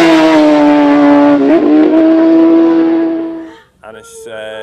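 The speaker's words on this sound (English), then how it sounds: "They're racing on public roads, on super bikes with more than 200 brake horsepower, big sticky fat tires on them." A superbike with more than 200 brake horsepower races on public roads at the Isle of Man TT, its engine screaming loudly and then fading quickly into the distance, followed by a brief sharp engine note.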